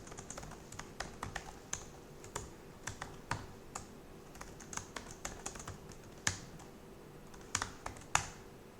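Code is typed on a computer keyboard at close range: irregular bursts of crisp key clicks, with a few louder key strikes standing out above a faint steady hum.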